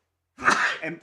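A single sharp sneeze bursts out in a courtroom during legal argument over a registered judgment, loud and close after a moment of silence, followed by a brief breathy tail.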